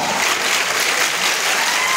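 Students at a career guidance gathering in Nanded clapping together, loud continuous dense applause filling the room without pause.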